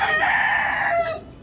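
Domestic chickens and their chicks cluck and call close by in a short burst, a hen's crowing-like cackle standing out over softer peeping.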